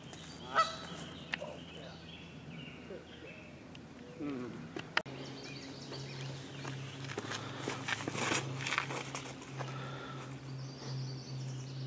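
A goose honks repeatedly outdoors during a league disc golf round at Portage Lakes, the calls moderately near over wind and footsteps while people talk nearby.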